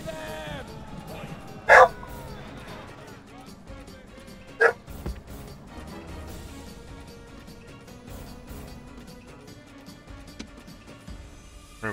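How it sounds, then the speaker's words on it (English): A pet dog barking twice in sharp, loud yips about three seconds apart, heard over faint background sounds of a strategy game, with some low talk nearby. "Sorry about that, my dog's crazy."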